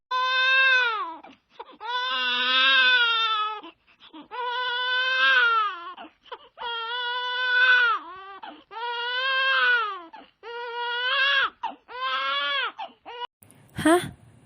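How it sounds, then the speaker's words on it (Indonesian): An infant's cry as a radio drama sound effect: repeated long, wailing sobs in regular bursts with short breaths between, loud and close, ending in a few broken whimpers. "bayi itu tiba-tiba menangis"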